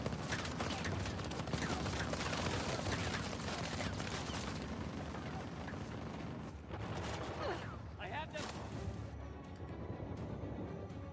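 Dense, continuous bursts of gunfire crackle throughout in the game Uncharted: The Lost Legacy, rapid and overlapping, with a brief lull near the end before firing resumes.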